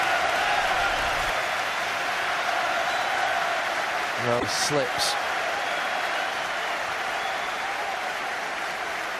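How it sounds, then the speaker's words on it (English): Football stadium crowd applauding a Manchester United player in a match against Burnley, a steady broad wash of clapping throughout with a commentator talking over it. "He's getting clapped."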